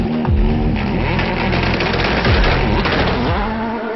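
A 1970 Ford Escort RS1600 on a time-trial drift run, its engine roaring loud and close throughout with rising and falling revs and raspy exhaust.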